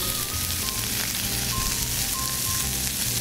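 Oil sizzles hard in a pan searing venison, a dense, steady crackling hiss that fills the whole stretch, loud and close with no talk over it.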